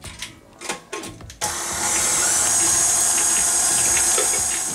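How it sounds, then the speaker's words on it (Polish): An electric mixer beating gingerbread batter with egg yolks and melted honey: a few bumps and knocks, then the motor starts and whirs loudly and steadily close by, with no talking. "Miksujemy."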